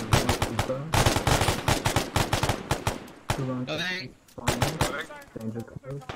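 Arma 3 Vietnam combat: rapid bursts of automatic gunfire crack in quick succession, loud and close, with players talking over the shooting in between.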